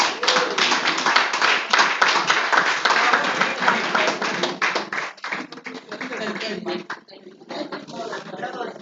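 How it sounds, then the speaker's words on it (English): An audience at a Nigerian women's agricultural progress event applauds after a speech, dense sustained clapping from many hands that thins out toward the end, with a voice speaking over it. "you can still give a round of applause for her"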